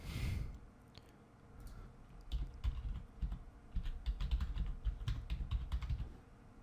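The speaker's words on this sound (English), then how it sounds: "Typing in." Fingers type on a computer keyboard in quick irregular bursts of clicks, close and fairly quiet, with short pauses between runs of keystrokes and no talking.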